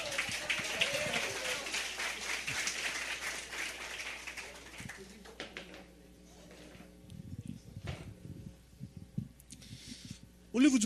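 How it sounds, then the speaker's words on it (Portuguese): A church congregation claps in applause for brother Gerson, a dense burst of hands that fades after several seconds, followed by quieter room sounds and a few scattered voices. "Uma salva de palmas para o irmão Gerson."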